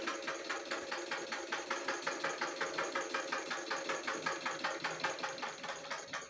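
A treadle sewing machine running at a steady speed, its needle mechanism producing an even, rapid rhythmic clatter that continues for several seconds, close and clear with no talking.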